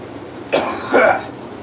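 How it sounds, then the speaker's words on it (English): A smoker's rough cough in a workshop where skateboards are shaped, two close harsh bursts in quick succession, loud and alone. "I smoked for a long time, so I got a bad cough"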